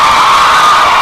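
Loud crowd cheering added as a sound effect for athletes, a dense continuous roar of many shouting voices with no individual words standing out.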